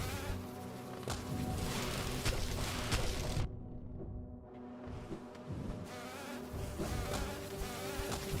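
Bees buzz around a beehive in the Hollow Knight video game, a dense steady insect drone that drops out briefly partway through before resuming, with no talking.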